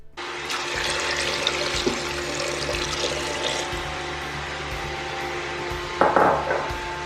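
Water running steadily into an Instant Pot pressure cooker insert with about a cup of salt added, a continuous splashing fill with a brief louder burst of pouring near the end.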